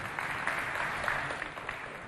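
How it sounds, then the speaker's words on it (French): Applause from an audience for a stylist at a neighbourhood holiday talent event in Chad, a steady wash of clapping sustained for the whole stretch at moderate loudness. "On l'applaudit bien fort"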